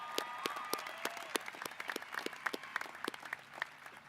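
Applause at a 2025 high school graduation ceremony, scattered sharp claps from a distant crowd in a large space, fairly quiet and uneven, with a voice briefly audible early on.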